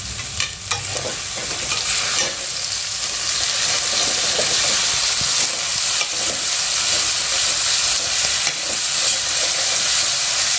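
Mixed vegetables with salt and jaggery are stirred in a pan, a bright continuous sizzle and hiss with occasional spatula knocks and scrapes near the start, loud and close with no voices.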